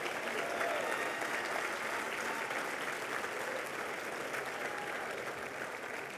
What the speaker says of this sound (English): let's have a round of applause for the West Point class of 88